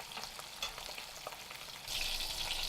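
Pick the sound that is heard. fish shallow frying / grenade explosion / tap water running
fish shallow frying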